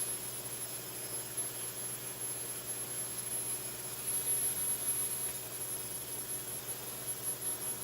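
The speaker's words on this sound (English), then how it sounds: "now I'm just going to use this blower and do the same thing and just finish cleaning it up so that" A leaf blower running steadily to clear chaff and debris off harvested seeds, a continuous close whooshing roar with a high whine, holding an even level throughout with slight swells midway.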